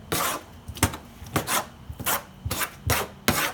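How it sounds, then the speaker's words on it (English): A sharp knife scrapes blood off deer meat during butchering, about a dozen short rasping strokes in an uneven rhythm, close and fairly loud, with no talking. "I try and scrape that blood off of there"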